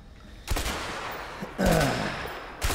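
Gunfire in the video game A Way Out: bursts of loud shots at around half a second, one and a half seconds and near the end, separated by quieter stretches.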